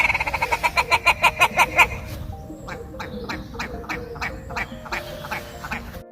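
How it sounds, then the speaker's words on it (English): A red grouse gives a fast series of rhythmic, throaty calls that speed up and then trail off into scattered clucking calls nearby. "I was visited by a flock of rather vocal red grouse"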